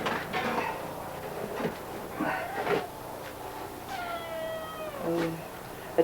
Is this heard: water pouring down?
no